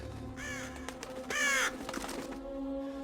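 A crow caws twice in a scene from the fantasy drama series Merlin, loud harsh calls standing out over a low steady background hum with faint sounds between.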